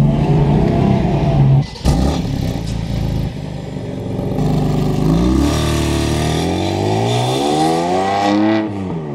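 A BMW M4 accelerates hard while being driven, its engine loud and close from inside the car, revving up through gears with a brief dip at a shift and then climbing again, without talking.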